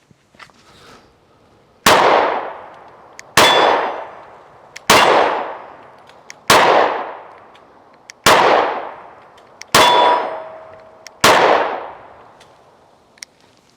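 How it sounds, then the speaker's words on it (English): Seven sharp shots from a PSA Micro Dagger pistol, evenly spaced, each ending in a bright ringing clang of a steel target that decays over about a second; no talking. "First time I've ever shot this pistol."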